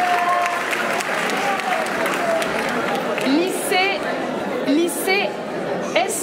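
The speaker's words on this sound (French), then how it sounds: "Vous avez le droit d'applaudir, évidemment." Audience applause greets participating high schools at a speaking contest, a steady wash of clapping under an announcer's voice naming schools.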